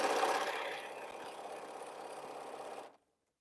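A domestic sewing machine runs steadily, stitching through a T-shirt quilt for about three seconds before stopping abruptly, close and fairly loud with no voices.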